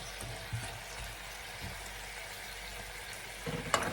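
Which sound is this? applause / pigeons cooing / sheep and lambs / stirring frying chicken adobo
stirring frying chicken adobo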